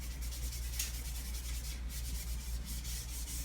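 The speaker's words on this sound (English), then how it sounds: "I have rubbed my mistake away." A towel rubs back and forth across paper to wipe away a drawing mistake, a steady close scratchy swishing in repeated strokes over a low constant hum.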